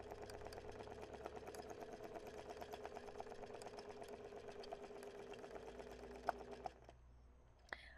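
A sewing machine runs in free motion stitching, embroidering letters onto fabric with a fast, even, quiet patter of needle strokes that continues steadily, then stops, leaving a few faint clicks.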